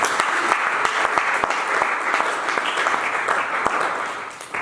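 Church congregation applauding steadily throughout, a dense run of close, loud clapping with sharp individual claps standing out, no talk over it.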